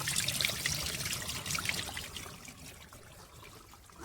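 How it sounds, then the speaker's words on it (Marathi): A small forest stream trickles and burbles steadily close by, a soft continuous watery hiss with no voices. "छोटासा झरा आहे."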